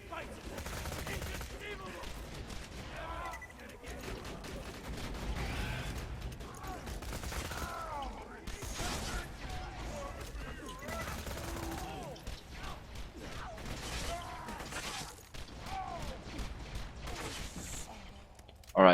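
Repeated pistol fire from the Pocket Rocket in Borderlands 2, used by Soldier Axton, with dense bursts of shots and explosive impacts continuing steadily and loudly for the whole stretch.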